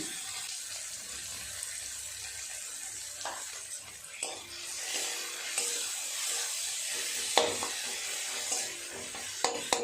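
Tomato and two green chillies with salt hit already-fried onions in a pan, giving a steady broad hiss and sizzle with scattered sharper crackles and a few spatula scrapes throughout.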